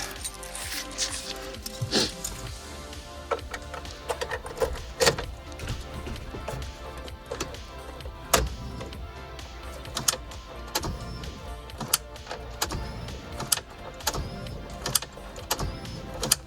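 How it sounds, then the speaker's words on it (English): A BMW E30's fuel pump runs while priming, a steady mechanical hum with scattered clicks and knocks, fairly close, with no talking. "That fuel pump is hella loud though"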